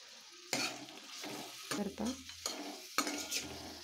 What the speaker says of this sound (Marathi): ते मी सर्व खडे मसाले यामध्ये घालून परतून घेणार आहे.